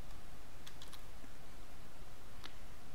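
Someone types on a computer keyboard, a quick run of light key clicks over a quiet hiss, with a couple of scattered taps at the end.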